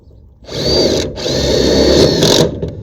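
A power drill drives metal tapping screws into greenhouse roofing panels, whirring up loud and close in two long bursts with a brief pause between them.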